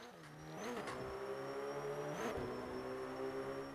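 A rally car engine in Forza 5 revs up in two rising pulls, each easing off, then holds a steady drone. The sound is faint and plays alone without talk.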